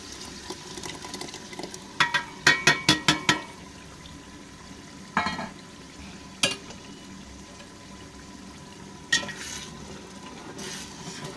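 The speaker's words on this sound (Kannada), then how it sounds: "ಇವಾಗ ಕೊತ್ತಂಬರಿ ಪುದೀನ ರುಬ್ಕೊಂಡಿರೋದು ಹಾಕ್ಕೊತವನೇ ಗೈಸ್ ಪೇಸ್ಟ್" Ground coriander and mint paste fries in oil for a biryani, a low bubbling sizzle under repeated sharp scraping clatters of a spoon stirring against the pan, in clustered bursts with quieter gaps.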